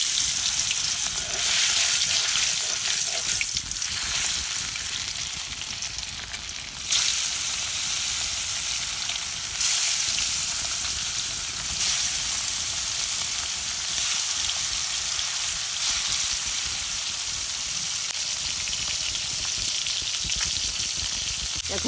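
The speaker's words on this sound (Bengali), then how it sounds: "এখন মাছ দিয়ে দেব, মাছ এখন দিয়ে দিই।" Surma fish frying in hot oil, with a dense, loud, continuous sizzle and crackle close by that jumps in intensity partway through and stays strong to the end, with no voices.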